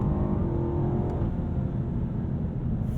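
A 2022 Alpina B8 Gran Coupe accelerating hard at high speed, heard from inside as a loud, steady low engine drone with road and tire roar, engine notes shifting slightly as it pulls, no talking.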